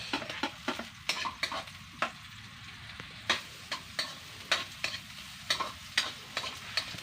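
Garlic and onion sautéing in a pan for Kapampangan-style ginataang kuhol, with a steady low sizzle broken by repeated sharp scraping and stirring strokes of a utensil against the pan.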